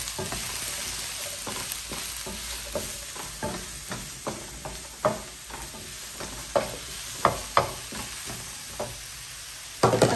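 Mushrooms fry and sizzle in a pan for a chicken dish, a steady crackling hiss broken by repeated sharp scraping clicks of stirring, fairly close and moderately loud, with no talking.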